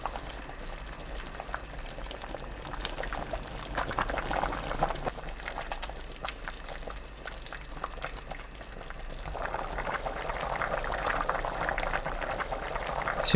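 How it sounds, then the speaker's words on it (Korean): A pot of mackerel soup with chili powder and soy sauce simmers on medium heat, giving a steady close bubbling and burbling that swells and eases throughout, with no voices. "고춧가루 1큰술, 국간장 2큰술 넣고 중불로 10분 더 끓여주세요."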